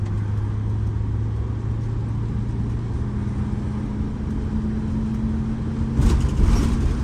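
A Prevost bus accelerating at full throttle on a test drive after repairs: a steady, droning engine with a rising tone heard from inside, growing louder toward the end.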